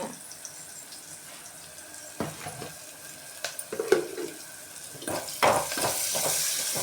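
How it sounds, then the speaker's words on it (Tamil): Chopped onions sautéing in a pan for South Indian sambar, a steady low sizzle with occasional stirring scrapes and clinks, louder bursts of frying toward the end, no talking. "வெங்காயம் எப்பவுமே அந்த பொன்னிறமான ஒரு கோல்டன் கலருக்கு மாறுற வரைக்கும் நல்லா வதக்கிக்கணும்"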